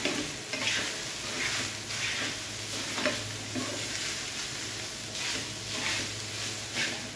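Sabudana khichadi being stirred in a pan, a soft steady sizzle with rhythmic scraping strokes of a spoon recurring every second or so, close and without voices.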